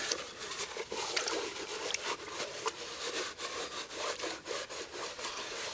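Abrasive sand is scrubbed around the inside of a metal bushpot, giving a continuous gritty scraping and rubbing with repeated strokes, close and fairly soft.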